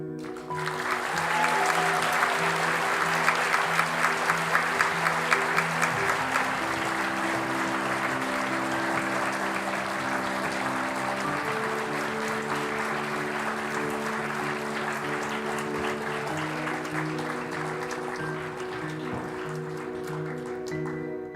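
Sustained crowd applause for graduates at the SSIS Class of 2024 graduation ceremony, a dense, steady wash of clapping lasting the whole stretch, with tonal music playing underneath.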